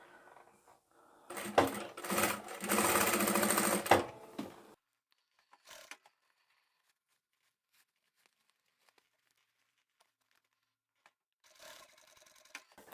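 A sewing machine stitches fabric for a scarf scrunchie in a burst of fast, even whirring. It stops, then two shorter runs follow, with quiet gaps and small handling clicks between them.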